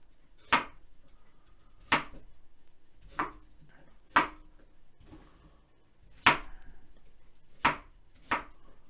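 A knife chops vegetables into coarse cubes on a board, seven sharp, distinct thunks spaced about a second apart, close and alone with no talking.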